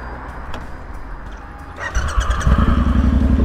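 An old 250cc motorcycle idles roughly, then its engine note rises and settles into a loud, steady, rattling chug close by. It carries on alone with no talking over it.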